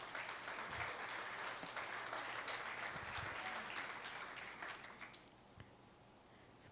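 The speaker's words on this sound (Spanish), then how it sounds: "Dense un aplauso por obedientes" A church audience gives dense, steady applause that gradually thins and fades toward the end, leaving a few scattered claps.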